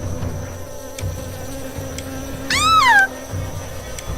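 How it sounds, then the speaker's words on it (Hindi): Bees hum in a steady, faint drone around uncovered food dishes in an animated Hindi horror story, with a brief, rising and falling cat-like meow cutting through midway. "कुछ मधुमक्खी निकली और उन सभी के आसपास मंडराने लगी।"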